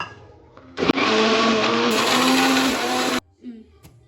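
Mixer grinder grinding biryani masala into a fine paste, a loud, steady motor whir with a grinding rasp that runs for about two seconds, then stops, with brief voices before and after.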